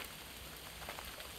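Steady rain falling as a dense, even patter of drops, moderately loud and continuous, with no voices.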